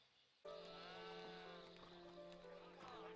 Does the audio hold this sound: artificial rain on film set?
no